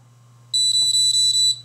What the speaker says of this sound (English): The camera has audible feedback